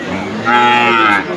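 A cow at a busy Bangladeshi rural cattle market lets out one loud, close, drawn-out moo that swells in the middle and tapers off, with faint crowd noise behind.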